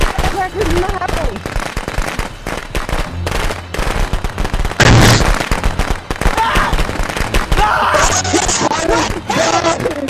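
Firecrackers in the Friday the 13th video game burst in rapid crackling volleys with one louder sharp blast midway, while several players talk loudly throughout.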